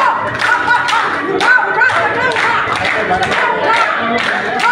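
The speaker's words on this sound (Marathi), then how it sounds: "या जोरदार टाळ्या वाजवल्या।" Audience at an award ceremony claps loudly in a dense, continuous burst with sharp individual claps standing out, mixed with crowd noise and a voice speaking over it.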